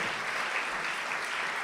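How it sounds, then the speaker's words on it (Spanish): A church congregation breaks into steady, dense applause during a sermon, loud and sustained with no break, with no voices heard over the clapping. "Yo creo que Él se merece un aplauso"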